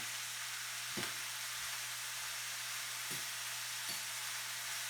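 Broccoli slaw sautéing in a pan, a faint, even sizzle and hiss with a low steady hum and a few soft stirring knocks.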